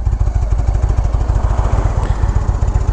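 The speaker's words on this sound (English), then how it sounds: "Look at all the motorcycles." Steady, loud engine rumble with a rapid pulsing throb, like motorcycles idling close by, continuous throughout, among them an Indian Chieftain.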